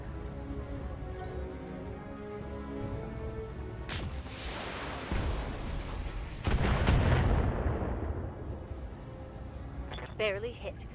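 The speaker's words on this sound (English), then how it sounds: "I don't get lots of opportunities to fire my AC-20." A heavy AC-20 autocannon booms in BattleTech, delivering a couple of deep, loud blasts with long rumbling decay amid game effects, while a voice talks over parts of it.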